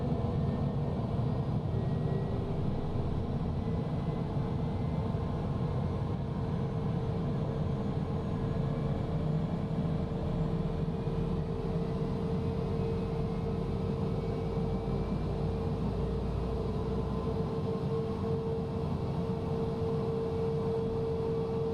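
A Cessna CJ4 business jet's engine runs steadily after start-up, a constant broadband roar with a faint whining tone on top, heard near and even throughout with no voices.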